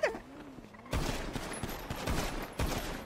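Gunfire in the NoPixel GTA roleplay game: after a brief quiet start, a dense, loud burst of rapid shots begins and keeps rattling, with a sharp extra crack near the end.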